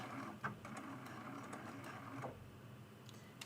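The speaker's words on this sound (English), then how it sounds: "I'm going to take a stitch, stitch, back stitch to lock it." A sewing machine at a 2.6 stitch length makes a few faint stitches and a back stitch on a mug rug binding, a soft ticking mechanical chatter heard close but very quiet.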